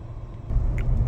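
A car drives along a narrow road in traffic on the way from Kotor toward Dubrovnik. A low engine and road rumble swells louder partway through, with no talk over it.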